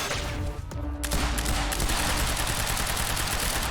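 Gunfire in the video game Quantum Break, a dense rapid stream of shots. After a short lull it swells into continuous loud automatic fire that carries on to the end.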